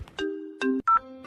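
A mobile phone plays a ringtone of short, bright electronic tones in a choppy melodic pattern, clear and alone.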